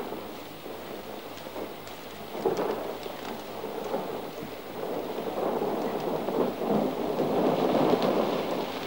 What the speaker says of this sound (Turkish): Birazdan yağmur diner.